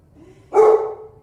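A dog gives a single sharp bark, close and loud, standing out against a quiet room.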